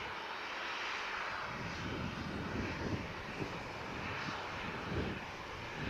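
A Ryanair Boeing 737 bound for Eindhoven at Manchester Airport gives a faint, steady distant jet rumble that holds evenly throughout, with no talking.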